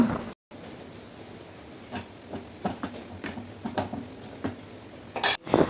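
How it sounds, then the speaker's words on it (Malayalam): Okra pieces drop into a pot of boiling tamarind water, with scattered light clinks and soft splashes over a low steady hiss. "പുളി തിളച്ചാൽ നമ്മൾ വെണ്ടക്ക അതിലേക്ക് ചേർക്കുക"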